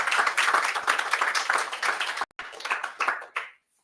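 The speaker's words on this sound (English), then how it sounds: "thank you for the generous applause" Audience clapping at a closing ceremony for a resilient islands event, a dense round of hands that fades, breaks off briefly, then resumes in a smaller burst before dying away.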